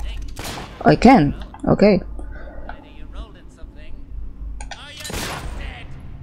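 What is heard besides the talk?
shooting a gnome in the video game Fable III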